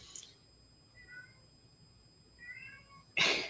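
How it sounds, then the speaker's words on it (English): Unhappy cats shut in a kitchen meow twice in soft, moderately distant calls, each a short rising-falling cry, with a sharper, louder burst cutting in at the very end over quiet room tone. "So you may hear meowing."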